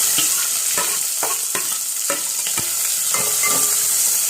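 Onion frying with mustard seeds and curry leaves in hot oil, a constant bright sizzle with sharp spatula scrapes and taps every half second or so, close and fairly loud, no talking.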